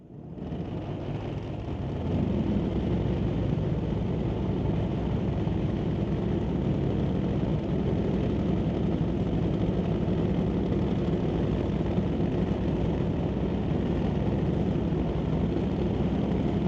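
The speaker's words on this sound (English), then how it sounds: "And Top Fuel Harleys fire up under the bridge." Top Fuel Harley drag motorcycles fire up under a bridge at a drag strip, a dense, loud, sustained engine roar that swells after a couple of seconds and holds steady throughout.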